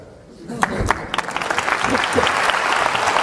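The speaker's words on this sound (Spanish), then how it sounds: "El aplauso es para Mari Carmen." Audience applause for a woman named Mari Carmen at a talk, starting after a quiet half second and swelling into dense, steady clapping from a large indoor crowd, with some voices mixed in.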